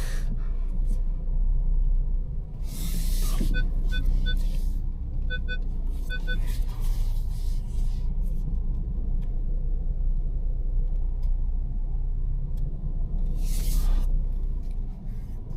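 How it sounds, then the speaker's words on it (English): A 2025 VW T-Cross with a 1.0 TSI engine and DSG gearbox reverse parks between two vehicles, giving a steady low engine and road rumble with soft interior noises and a few brief beeps throughout. "So let's go here between the Hyundai and the Hilux. We're going to reverse park."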